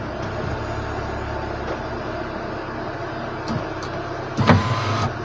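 Electric rear window of a Renault Megane 2 CC motoring in its door: a steady, close, moderately loud whir with a faint low hum beneath, ending in a brief louder clunk near the end.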